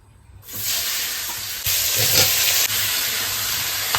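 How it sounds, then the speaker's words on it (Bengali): Pieces of pointed gourd hit hot sunflower oil in a pan, a sudden loud hissing sizzle that surges again midway and then settles into a steady close fry, with no voices. "পটলটা একটু ভালো করে ভেজে নেবো না হলে একটা স্বাদ আসবে না খেতে"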